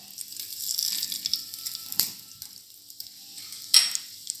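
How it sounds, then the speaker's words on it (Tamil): Bay leaves and whole spices sizzle in hot ghee inside a kadai, a soft steady frying hiss broken by a couple of brief clinks and stirring scrapes, close and fairly quiet. "இப்போ கடாயில் எண்ணெய் வச்சு கடாயில் நெய் ஊற்றிருக்கேன்."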